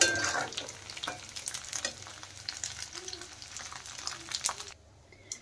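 Paneer frying in oil in a home kitchen, a steady close sizzle with scraping and stirring clatter throughout, cutting off abruptly near the end to a quieter tail.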